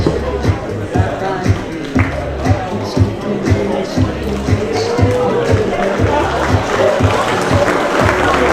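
Audience applause at an Eurocat 2015 sailing award ceremony, uneven clapping from a crowd with individual claps standing out in a loose rhythm, while voices carry on underneath and nearby.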